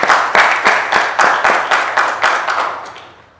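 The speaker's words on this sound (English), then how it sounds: "let us give Mr. Kariuki a round of applause." A round of applause from the audience at a COMESA Competition Commission and Competition Authority of Kenya event, with loud, fairly steady clapping peaking in rhythmic waves and tapering off toward the end.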